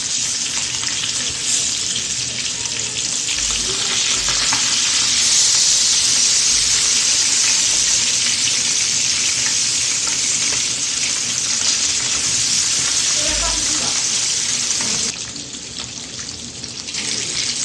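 Pieces of fish fry in oil over medium heat in a pan, giving a loud, steady, close sizzle that crackles unbroken for the whole stretch and drops slightly quieter near the end.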